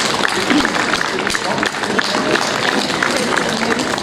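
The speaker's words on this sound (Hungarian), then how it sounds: "Nagy tapsot nekik!" Audience clapping and cheering at an outdoor village festival stage show in Hajmáskér, Hungary, a steady dense wash of applause filling the whole stretch with crowd noise underneath.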